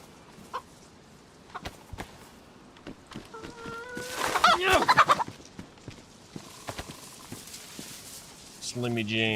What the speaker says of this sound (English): Hear another chicken.